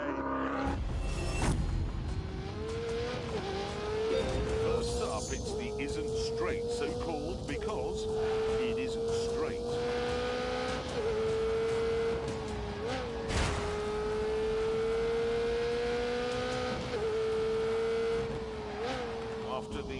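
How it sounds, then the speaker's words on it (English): A Ferrari 488 laps a race track: the engine revs climb and shift, tyres squeal now and then, and the car stays loud and close throughout while someone talks over it. "we've got a bit of a performance benchmark, a Ferrari 488"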